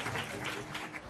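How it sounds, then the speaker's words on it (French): Audience applause after a performance at a classical music event, a brief steady patter of clapping with no voices over it. "je crois qu'on peut l'applaudir"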